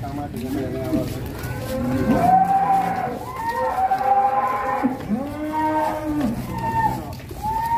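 A large black bull from a cattle farm lets out repeated drawn-out moos, loud and close, calling several times in a row against an outdoor rural background with no other clear sounds.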